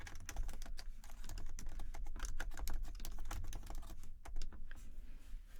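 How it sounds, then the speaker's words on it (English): A username and password being entered on a computer keyboard: a rapid, close run of crisp key clicks in uneven bursts with brief pauses, loud and clear with no voices. "type in your Goucher username and password"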